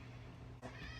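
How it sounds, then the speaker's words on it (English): An indoor cat gives a single short meow partway through, quiet against a faint background hiss. "That was my cat."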